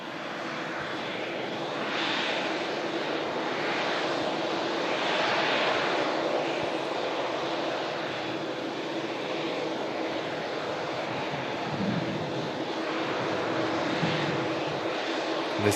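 A TUI Boeing Dreamliner arriving from Cancun, its jet engines giving a steady, fairly distant broadband roar that swells gently and holds throughout with no voices over it.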